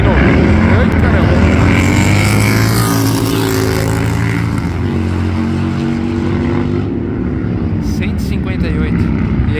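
A fast Harley-Davidson motorcycle doing a wheelie as it passes, its loud engine drone rising and falling in pitch as it sweeps by, with a voice talking over the roar.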